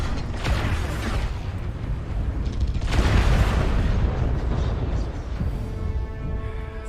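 Incoming missiles strike in a mech combat video game, producing heavy, continuous rumbling blasts and mechanical clanks, with a surge of loud booming in the middle and a steady roar throughout.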